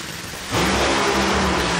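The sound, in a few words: Nitro Funny Car drag racing engine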